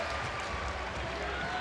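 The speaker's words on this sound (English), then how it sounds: "You hear the crowd." Crowd roar fills a basketball arena during an NBA game between the Phoenix Suns and Toronto Raptors, a steady dense wash of cheering and noise with voices mixed in throughout the short stretch.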